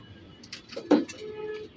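Pigeons coo softly around a loft housing squabs, with one brief, slightly louder coo standing out among faint calls.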